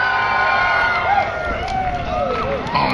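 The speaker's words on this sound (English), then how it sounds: "all those that think that Jughead should get a prize here for his costume, please give him a cheer on 3" A crowd at a 420 gathering in Victoria cheers and whoops for a costume contestant, a loud burst of mixed shouting voices rising and falling for a few seconds.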